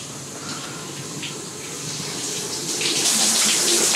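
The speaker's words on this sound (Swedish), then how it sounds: "Jag ska smyga in i duschen för att Dogge duschar och så skrämmer vi honom." A home shower runs steadily as a broad, hissing spray of water that grows gradually louder and closer, with no talking.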